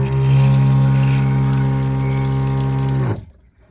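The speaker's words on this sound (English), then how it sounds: "If I go ahead and turn on the water pump, now I can dispense water in here." Water from a stainless steel camper sink faucet, fed by a water pump in a Chevy Astro van build, runs loudly and steadily with a strong pump hum, then cuts off abruptly near the end.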